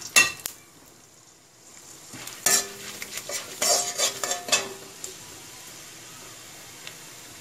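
Chana dal and urad dal fry in hot oil for rava kichadi, a soft sizzle under a run of close metal spoon scrapes and stirring clinks against the pan.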